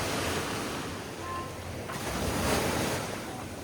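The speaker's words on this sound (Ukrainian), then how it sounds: "Сьогодні перший день, що такі невеликі хвилі." Small sea waves wash onto the shore at Varna, Bulgaria, on a calm day: a soft continuous hiss of surf with gentle swells, with wind buffeting the microphone and no voices.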